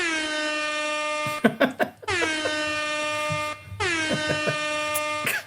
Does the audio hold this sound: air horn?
yes